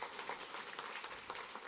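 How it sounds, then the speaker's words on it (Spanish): Convention audience applauds with a dense patter of clapping hands that fills the short moment steadily, fairly soft and even, with no voices over it. "Fuerte los aplausos para el doctor Mato"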